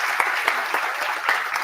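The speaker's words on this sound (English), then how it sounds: "Guys, please clap." An audience at a B.Tech inauguration event applauds a prize winner with steady, dense clapping, close and fairly loud, briefly filling the moment.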